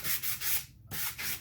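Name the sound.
sanding an epoxy sculpt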